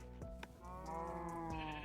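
Sheep bleating in the video game TerraFirmaCraft, a couple of short wavering bleats rising clearly over a steady ambient background, with no talking.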